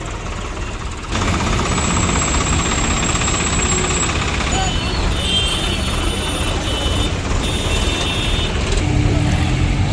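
Many tractor engines rumble loudly and continuously at a farmers' protest rally in Nanded, a dense, close drone with a faint higher whine and some voices mixed in.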